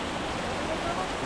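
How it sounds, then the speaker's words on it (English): Soft, steady rush of falling water from Scout Falls, a small cascade in American Fork Canyon, a constant hiss with no breaks. "A little waterfall."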